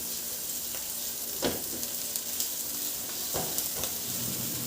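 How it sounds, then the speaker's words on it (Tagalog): Garlic sautés in hot cooking oil in a pan. A dense, continuous sizzle is heard up close, broken by a few soft stirring knocks. No one speaks. "Sa isang kawali, magpainit na rin ako ng mantika at igisa ko na yung bawang."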